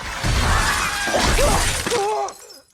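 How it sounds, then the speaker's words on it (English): Glass shattering loudly and close in a horror film scene, a sustained burst of breaking and tinkling shards that fades out near the end. "Pennywise flashes a twisted smile and finally shatters the glass."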